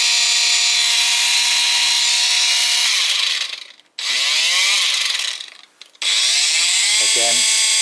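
An SPTA mini dual-action car polisher fitted with a medium pad runs with a loud steady whir. It cuts out briefly twice and spins back up, and a voice is heard near the end.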